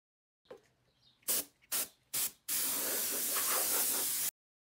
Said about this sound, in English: Next, I hit all of the objects with gloss white spray paint.